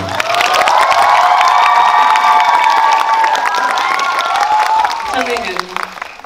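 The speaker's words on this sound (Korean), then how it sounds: "큰 박수 부탁드립니다." A cinema audience at a film talk event with the director and lead actors in a large theater erupts in loud cheering and applause, voices whooping over a thick bed of clapping before it tapers off near the end.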